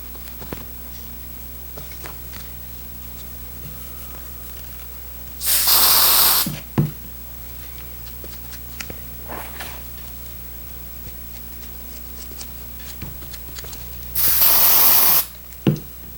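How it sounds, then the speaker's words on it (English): Spray adhesive hisses onto motorcycle seat foam and upholstery in two separate short bursts, each about a second long, with quiet handling noises in between. "To avoid excessive overspray, I'll apply this glue to both surfaces"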